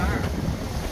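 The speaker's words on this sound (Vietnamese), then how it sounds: "Gió mạnh quá." Strong wind buffets the microphone aboard a boat on the Tien River in Ben Tre, a loud, continuous roar of gusts and rushing air that covers the whole moment.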